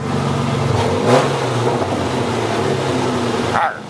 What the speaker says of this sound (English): I just love parking garages in my truck because my truck's so freaking loud